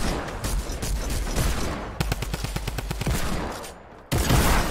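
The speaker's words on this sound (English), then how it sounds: "He's in the shack, hold up, I can shoot him through it." Rapid bursts of gunfire in the video game Fortnite, a steady automatic rattle broken by a tight run of distinct shots near the middle, loud and continuous with no talk.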